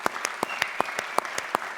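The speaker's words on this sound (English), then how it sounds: "I'd be remiss if we didn't give Birch Bayh a big round of applause, right?" An audience at a university presidential lecture gives a round of applause, heard as a thin, fairly regular series of separate claps, about five per second, steady and moderately close, with no voices.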